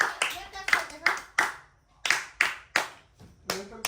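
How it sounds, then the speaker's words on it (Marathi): Hands clap close by in a home, loud sharp claps at an uneven pace with brief pauses, while excited voices talk over them. "टाळ्या वाजवा रे टाळ्या वाजवा"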